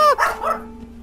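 A dog gives a single close, sharp bark with a brief whining tail, standing alone with no talk over it.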